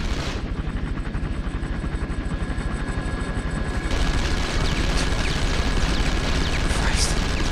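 Rapid automatic gunfire in the PS2 video game 24: The Game rattles continuously and loudly in dense bursts, with a rumbling, heavier layer of fire joining partway through.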